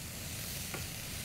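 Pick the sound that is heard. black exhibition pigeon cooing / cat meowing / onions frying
onions frying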